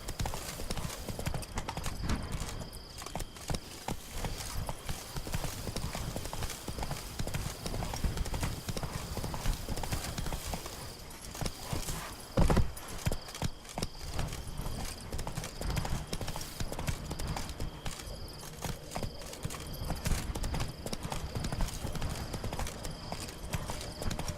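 Roach the horse clip-clops along at a steady trot in The Witcher 3, hoofbeats rhythmic and close over ambient game sound, with a brief louder thump midway and a faint whinny possible.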